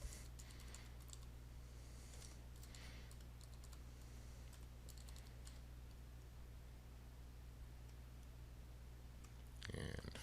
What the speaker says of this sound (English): we're going to type in the Contoso Corporation.